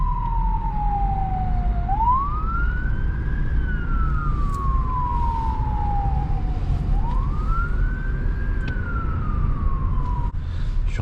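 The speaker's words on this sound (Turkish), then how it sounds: "ambulans aldı götürüyor." An ambulance siren wails steadily in Istanbul traffic, rising and falling in long sweeping cycles over constant traffic rumble, with no talking.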